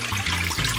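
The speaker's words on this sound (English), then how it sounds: "and then we're gonna pour off that water" Rinse water is poured off raw fish in a kitchen, a short, steady splashing stream heard close and fairly loud with no talking.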